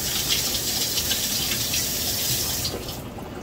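Tap water runs steadily into a kitchen sink while a lidded jar of preserved peaches is washed, a close, continuous gush that cuts off near the end.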